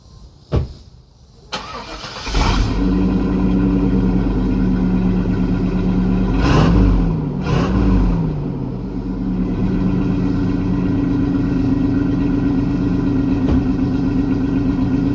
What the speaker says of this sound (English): This 454 big block sounds really nice.